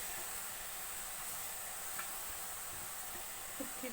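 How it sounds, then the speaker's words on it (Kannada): Grated beetroot cooking in a pan on a stove gives a soft, steady sizzling hiss that stays faint and even throughout, with no voices. "ಇವಾಗ ಒಂದು ಬಾಣಲಿಗೆ ಸ್ಟವ್ ಮೇಲೆ ಇಟ್ಟು ತುರ್ಕೊಂಡಿರೋಂತಹ ಬೀಟ್ರೋಟ್ ಹಾಕೋತಾ ಇದ್ದೀನಿ."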